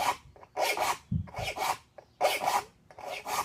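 Rhythmic rasping strokes of a hand file sharpening the teeth of a rip saw clamped between wood blocks in a leg vise, close and distinct, each stroke a short gritty burst with brief gaps between.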